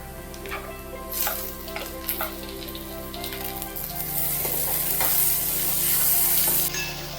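Chopped tomato for misal frying on high heat, a steady loud sizzle with intermittent scrapes of a spatula stirring in the pan, close up and with no talking.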